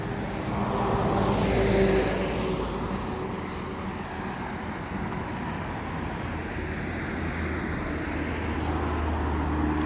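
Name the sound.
tourist sightseeing vehicle driving past in Switzerland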